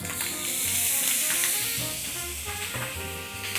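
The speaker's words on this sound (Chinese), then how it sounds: "煎培根火不要太大" Short strips of bacon sizzle and hiss steadily in a pan over moderate heat with a splash of water added, a dense close-up frying crackle that stays loud throughout with faint clinks of stirring underneath.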